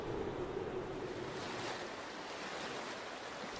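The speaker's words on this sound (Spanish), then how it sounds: "durante unos días solo se oye el río" The Ebro river flows with a steady, faint, broad rushing of water and no voices.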